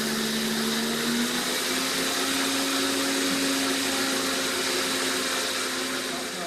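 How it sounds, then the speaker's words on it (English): A blender running on its highest setting milling dry rice into flour, a steady loud whirring roar with gritty rattling, unbroken throughout. "So put your rice in, put it onto its highest setting for milling."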